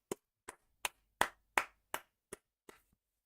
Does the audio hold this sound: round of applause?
yes